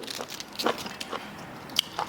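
Crisp crunching bites of squid tentacle and glass noodle salad with crispy morning glory, a few irregular chews close to the mic with quiet pauses between them.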